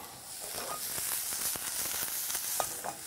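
Fresh diced garlic sizzles and crackles in a hot pan, a steady close frying hiss with occasional sharper pops and the scrape of stirring.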